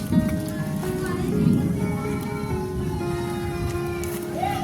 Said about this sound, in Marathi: बहुतेक पाऊस तिकडे लागतोय